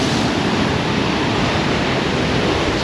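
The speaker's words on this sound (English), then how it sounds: "There's a big wave." Large sea waves break on the Holderness coast at Aldborough, a continuous broadband roar of surf with steady loudness and no talk over it.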